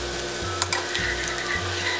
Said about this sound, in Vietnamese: các bạn sẽ cho tỏi và hành tím băm còn lại vào